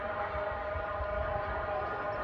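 An earthquake alarm siren blares through a Mexico City simulation drill, a continuous moderately distant wail with layered tones and low rumbling city ambience underneath, no talking.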